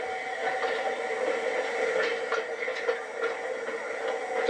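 The Roaring Camp and Big Trees Railroad train charges up a grade toward a switchback, a steady rumbling, hissing rail roar with faint rhythmic chuffs and clanks throughout, no speech.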